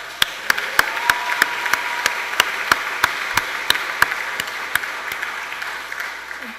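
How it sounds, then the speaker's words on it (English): Applause from a hardware summit audience over a soft background wash, with one prominent nearby clapper striking in a steady, evenly spaced rhythm of sharp claps. "you can clap for that."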